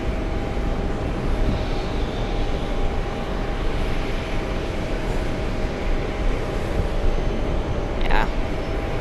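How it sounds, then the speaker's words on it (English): A yellow DHL cargo plane at JFK airport gives off a steady, broad engine roar that holds at an even loudness throughout, with a brief brighter swell near the end. "DHL plane, perhaps?"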